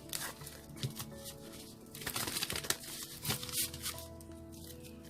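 Tarot cards are shuffled by hand in close, quiet bursts of riffling and sliding, with soft irregular flicks and rustles repeating over several seconds.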